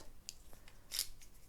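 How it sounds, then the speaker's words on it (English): Three purple pen lids pulled off one after another, giving a few short, crisp clicks and pops close by, the sharpest near the middle, with quiet gaps between them. "I'm going to take off the 3 lids off these purple pens"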